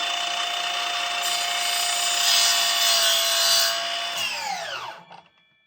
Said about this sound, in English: Cut him on the miter saw, job done.